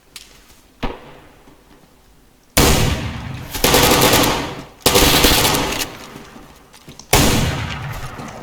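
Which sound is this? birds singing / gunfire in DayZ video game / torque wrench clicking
gunfire in DayZ video game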